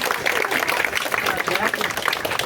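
An audience applauds the geotourism tour monitors at a university event, a steady wash of many hands clapping, loud and close throughout.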